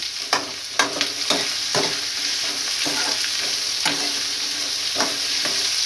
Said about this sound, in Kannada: ಮೀಡಿಯಮ್ ಫ್ಲೇಮಲ್ಲೇ ಕ್ಲೀನಾಗಿ ಗೋಲ್ಡನ್ ಬ್ರೌನ್ ಬರೋ ತನಕ ಫ್ರೈ ಮಾಡ್ಕೊಳ್ಳೋಣ